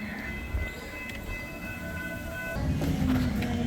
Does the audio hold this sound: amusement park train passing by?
yes